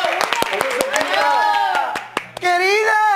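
Steady clapping from a group of academy students breaks out amid loud, excited voices and cheering, the claps quick and close, briefly dropping away before the voices surge again.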